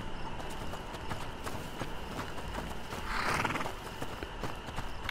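Horse in the A Plague Tale: Innocence video game, hooves clip-clopping steadily at close range with a brief whinny or snort partway through, over a quiet ambient background.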